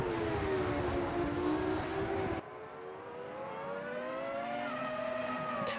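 Race cars in the Grand Prix Classics racing game roar with loud engine notes that rise and fall, a sharp cut partway through leaving a steadier, thinner drone from another car.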